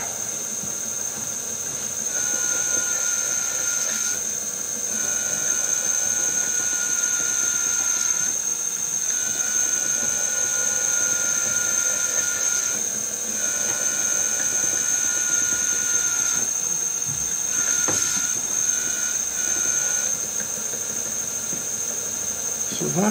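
A homemade electric power steering pump built from an old alternator runs continuously nearby with a steady high whine and hiss, its tone dipping and rising in several pulses as load changes.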